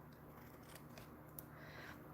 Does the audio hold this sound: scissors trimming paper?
yes